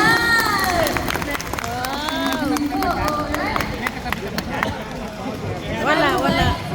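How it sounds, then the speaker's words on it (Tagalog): A crowd at a golden anniversary celebration cheers and claps in a steady, dense wash of noise. Excited voices rise over the crowd throughout, and a fresh burst of cheering comes near the end. "Palakpak ka naman dyan!"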